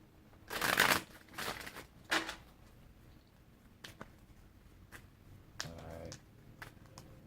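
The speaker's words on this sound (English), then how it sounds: "We'll do 2 more shuffles" Tarot cards are riffled together in a few quick, crisp bursts near the start, then lighter taps and shuffling sounds follow, close and fairly quiet.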